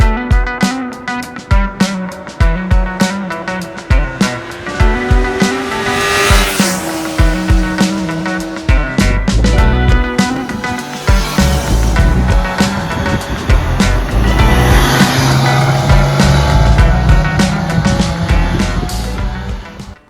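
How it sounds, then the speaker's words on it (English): A Yamaha FZ6 four-cylinder 600cc motorcycle being ridden, its engine revving and shifting through gears in a loud, continuous stream with rising and falling pitch and wind noise. "So let's take the bike for a spin."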